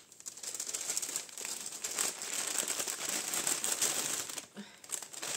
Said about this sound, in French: Désolée pour le bruit de papier.